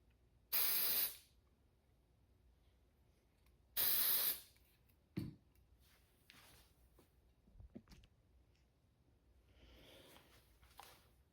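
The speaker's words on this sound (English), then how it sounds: "So a little bit of mold release spray for all of these." Mold release spray is aimed at epoxy chess piece molds in two short, loud aerosol hisses about three seconds apart, followed by faint clicks and handling sounds in a quiet room.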